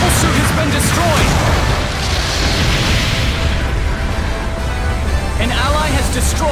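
A mobile suit blows up in Gundam Battle Operation 2, giving a loud, dense booming explosion over continuous battle noise, with a game announcer voice speaking over it.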